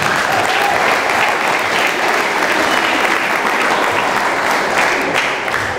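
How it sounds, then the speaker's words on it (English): Loud, dense applause fills a hall at a youth development trust fiafia night, a continuous roar of many hands clapping at a steady level throughout. "So if you could all give us a bit of a round of applause."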